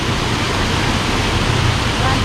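A small stream from a waterfall flows through Mae Kampong village in Chiang Mai, Thailand, giving a steady, loud, close rushing hiss of water that fills the whole moment without pause.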